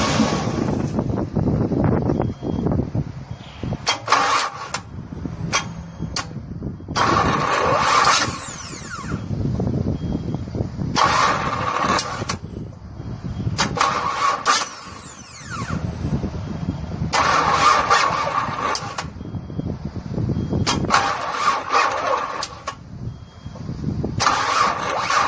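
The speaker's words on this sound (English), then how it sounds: "the engine will start if you keep cycling the key" Nissan engine being cranked repeatedly by cycling the key, with bursts of starter whirring and engine churning recurring every few seconds in a close, steady rhythm.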